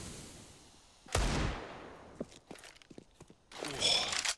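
A single sharp gunshot in a Counter-Strike Pro League match cracks out loud and decays quickly, followed by faint footsteps and small clicks, then a burst of louder game noise near the end.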